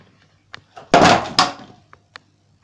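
A door bangs indoors in a house, one loud heavy thud followed by a second knock, with scattered faint taps and creaks around it in an otherwise quiet room.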